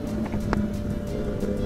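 A Kawasaki Ninja ZX10R motorcycle with a custom exhaust holds a loud, steady engine drone close by, with one brief sharp click partway through and no clear climbing rev.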